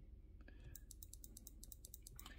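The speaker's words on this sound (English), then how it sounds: "I don't really like the clicking sound, but yeah, it's kind of okay." Clicks from a Suunto 9 Peak sports watch sound as a quick run of small, sharp ticks as settings are scrolled, fairly close and over a low background hum.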